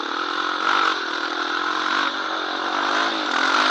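A Honda TRX700XX ATV engine revs hard and steadily while spinning doughnuts in a full circle, a loud, close, sustained mechanical roar with slight rises in pitch and no talking.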